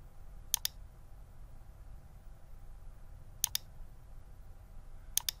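Sharp, quiet clicks from a computer mouse and keyboard during CAD sketch work come in brief double taps spaced a few seconds apart in a hushed room.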